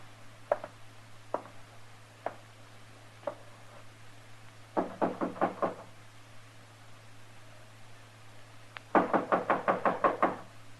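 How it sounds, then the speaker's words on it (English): Knocking on a wooden door as a radio drama sound effect in a Western setting: a few single knocks, then a burst of rapid raps, and a louder second flurry of quick knocks near the end, with a steady low hum underneath. "knock on the door"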